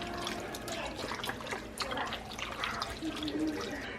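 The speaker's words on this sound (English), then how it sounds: "And then I'm going to add my beef broth." Beef broth pours into a cooking pot with potatoes, making a soft, steady trickling and splashing of liquid close by, with faint kitchen noise.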